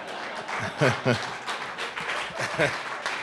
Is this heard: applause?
yes